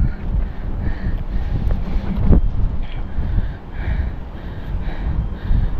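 Wind gusts buffet a microphone on a fishing boat at sea, a steady rumbling roar with brief louder bursts, close and continuous, with no voices.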